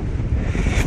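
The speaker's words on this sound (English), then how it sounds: "We're on the end of the pier and it's so windy." Loud, rumbling wind buffeting the microphone at the end of Southport pier, constant and close, with a faint wash of sea in the background.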